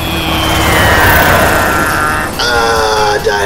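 A toy airplane crash effect in a dinosaur toy adventure skit plays as a loud droning engine whine that slowly falls in pitch, followed by a brief shift in tone, with no talk over it.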